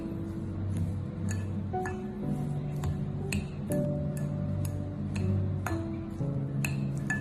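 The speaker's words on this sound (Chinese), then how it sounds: "用筷子充分的搅拌均匀" Chopsticks stir a mixture of grated radish, chopped onion and minced ginger in a bowl, producing light, rapid clicking taps against the bowl over soft background music.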